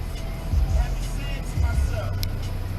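A Chrysler 300 left idling during a police traffic stop gives a low, steady engine rumble with a couple of heavier throbs, close by, with faint voices over it.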